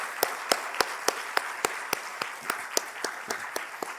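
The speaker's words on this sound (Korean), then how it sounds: "우리 감사의 박수 드리겠습니다." A small church congregation claps at a Korean prayer meeting, sparse, distinct hand claps ringing out in a loose, uneven rhythm, fairly close and moderately loud, with no voices over them.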